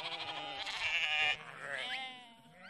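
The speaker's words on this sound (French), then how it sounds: "Ce berger surveille son troupeau de moutons mérinos qui produisent la meilleure laine du monde" Merino sheep in a New Zealand flock bleat in quick succession, several wavering calls overlapping close by before fading, with no one talking.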